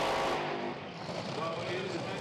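A Top Fuel dragster at Santa Pod roars down the drag strip, a dense, loud, continuous engine blast that fills the whole moment, with a commentator's voice partly buried underneath.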